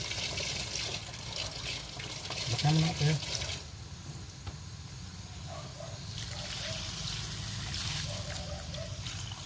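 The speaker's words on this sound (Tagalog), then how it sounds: "Pagdagan na natin ng tubig yan." Water poured into a pot of chicken tinola, a steady trickling splash running for several seconds under conversational speech.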